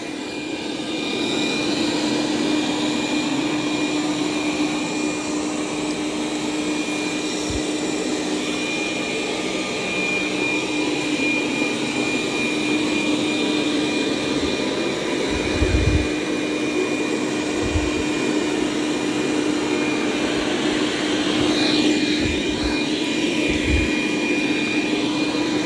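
A Dreame D10 Plus Gen 2 robot vacuum and mop runs back and forth across the floor, giving off a steady, fairly quiet motor whir with a faint high whine and a few soft low bumps.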